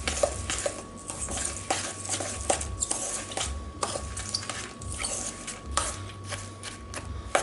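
Spoons stir and scrape through a quinoa burger mixture with barbecue sauce and seasonings in a bowl, giving steady close scraping with frequent light clinks against the dish, no voices.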